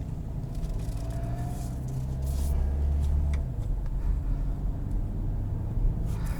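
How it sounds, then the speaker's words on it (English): A 2022 Kia Sorento Hybrid SUV pulls away and drives, heard from inside as a quiet, steady low rumble of road and engine with a brief swell in the middle and faint clicks. "let's go for a drive"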